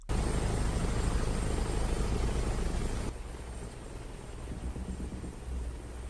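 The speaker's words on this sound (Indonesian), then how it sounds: "di luar ada helikopter yang datang" A helicopter roars loudly and steadily close by, its rotor thrum dropping to a somewhat quieter, continuous drone halfway through.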